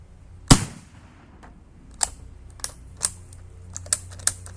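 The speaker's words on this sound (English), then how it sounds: "if I go shooting black powder like this rapidly, this much, dude, this whole thing would be covered in smoke" Black powder rifle shots using FFFFFG 5F powder, a sharp loud crack followed by a quick irregular string of fainter pops over about four seconds, with no talk.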